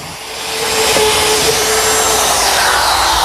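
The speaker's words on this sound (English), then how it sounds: "a collar in my router fits into the jig, and a 1/4 inch bit does the work" Wood router fitted with a guide collar and a 1/4 inch bit cuts shelf-pin holes through a jig in a teak bar carcase, a steady loud high whine that starts up and holds unbroken throughout, with no talk.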